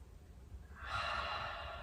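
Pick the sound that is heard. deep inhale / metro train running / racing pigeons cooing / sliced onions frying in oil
deep inhale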